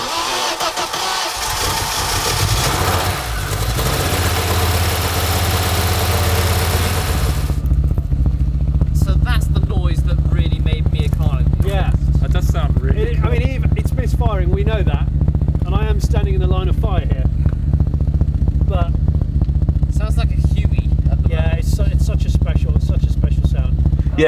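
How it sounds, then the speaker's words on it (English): An Audi Quattro engine cranks, then settles into a steady, loud idle that runs on for a long stretch. Voices talk over it during the first few seconds. "So if you could fire it up. The Quattro. Fire up the Quattro."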